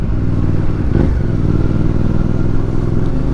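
A motorcycle engine rumbles loudly and close on a town street in Caramoan, Camarines Sur, a steady throaty drone with a slight rise near the one-second mark and no talking.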